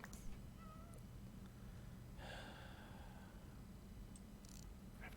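A cat in a video game meows a couple of times, short and fairly soft, over a steady low background hum with no talking.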